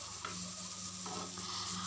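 Steady, close sizzling of chicken and potatoes frying in a pan, with faint stirring scrapes and no voices.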